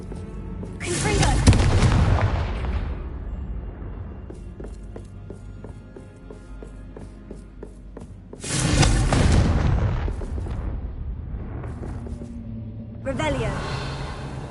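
Confringo spell blasts in Hogwarts Legacy, three heavy booming explosions spaced several seconds apart, each loud with a rumbling tail, over a quieter game background.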